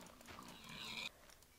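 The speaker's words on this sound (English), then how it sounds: "There's a nice pig." A pig in Minecraft gives a brief grunting oink, a faint nasal squeal rising then cutting off abruptly, followed by quiet game ambience.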